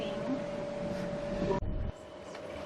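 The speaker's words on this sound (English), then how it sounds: "we're on the light rail in Canberra" Canberra light rail tram in motion, heard from inside the carriage: a steady rumbling hum with a sustained whine, which cuts off abruptly partway through and drops to a quieter rumble.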